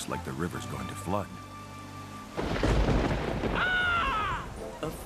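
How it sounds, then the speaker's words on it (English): Deep thunder rolls in and rumbles loudly for a few seconds amid rain, after a brief stretch of quieter tones and voices. "Afraid of a little thunder"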